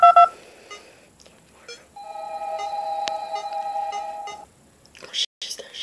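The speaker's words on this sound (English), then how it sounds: "Call her on the phone." Phone dialing tones in the video game Five Nights at Candy's 2 play as a short burst of keypad beeps followed by a long steady ringing tone, with a voice talking around it.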